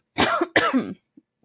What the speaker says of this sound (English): I still have a little bit of a cough from when I got sick.